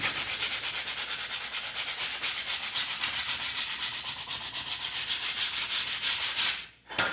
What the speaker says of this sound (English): I'm going to follow it up with a little bit of sanding